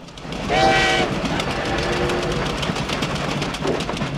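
A train rolls past with a brief horn blast near the start, followed by steady rumbling and rhythmic clatter of wheels on track.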